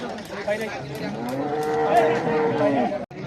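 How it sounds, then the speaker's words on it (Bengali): A cow lows at a busy cattle market ahead of Qurbani, one drawn-out moo close by with faint crowd chatter in the background. "গরু একটি গরু আসছে"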